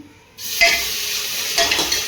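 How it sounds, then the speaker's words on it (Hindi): Samai (barnyard millet) rice being tempered and stirred in a pan during a home village kitchen routine, a steady close sizzle with the scrape of stirring starting suddenly after a quiet moment and continuing, with brief louder surges. "भैया समाई के चावल छोक लेते हैं जल्दी जल्दी"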